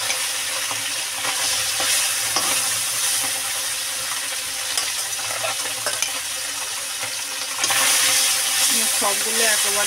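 Puti fish sizzle steadily in smoking-hot mustard oil in a kadai, a continuous close frying hiss with scraping stirs that swells louder near the end, while a person talks.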